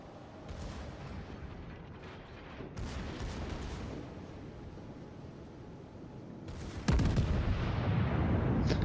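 Naval gunfire from battleships in World of Warships, with a German Bayern battleship under fire near a New Mexico battleship, as repeated booming shots and rumbling impacts over a steady battle din, the loudest blast striking near the end.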